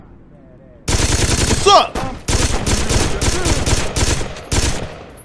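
Heavy automatic gunfire from a big gun in the Saints Row 2 video game, loud rapid bursts with a few short pauses over several seconds, with a voice speaking briefly near the start.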